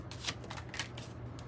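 Tarot cards shuffled by hand, soft quick riffling bursts in a quiet room, faint and close, with no talking.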